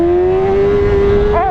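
BMW S1000RR HP superbike, 230 hp, its engine holding a steady high-rpm whine up close, then a quick rising and falling blip of revs near the end.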